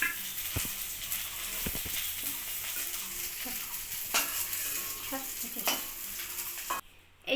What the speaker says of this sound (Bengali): আমি মাছটা ভাজা বসিয়ে দিয়েছি।